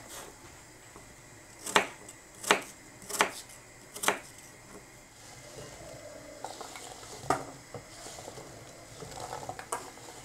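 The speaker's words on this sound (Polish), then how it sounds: "Teraz należy te jabłka pokroić w kosteczkę." Apples are diced with a knife for rowan and apple jam: four crisp chops at a steady pace, then a quieter spell of scattered cuts and light kitchen clatter nearby.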